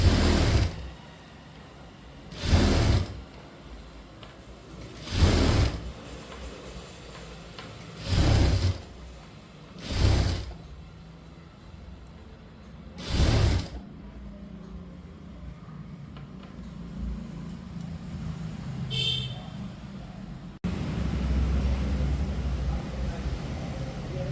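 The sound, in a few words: sewing machine stitching a double stitch on a garment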